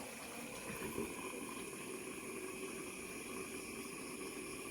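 Pigeon curry bubbling in a covered pot, a faint steady simmer with a low hum and no talk.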